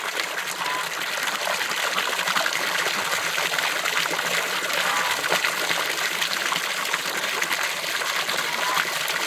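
Water splashes and trickles steadily in a duck pen outdoors in winter, a continuous close gushing and dribbling with no voices.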